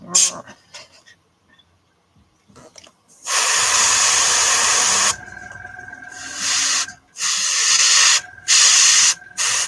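An airbrush sprays paint onto a lioness painting in bursts of loud close hiss, starting and stopping several times with quiet gaps and faint handling noises between.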